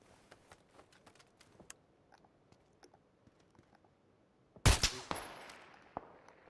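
A single loud gunshot in PUBG rings out suddenly after a stretch of quiet ambient game noise with faint clicks, followed by a decaying echo and a smaller crack.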